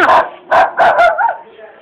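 A few short barks from a dog close by, three or four bursts in quick succession, followed by a softer whine.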